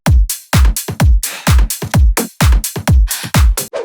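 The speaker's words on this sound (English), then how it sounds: "In the second part of the drop, I added some hi-hats." A driving bass house drum pattern from a drop, deep kicks and crisp snappy claps, with bright hi-hat ticks woven through the steady, busy rhythm.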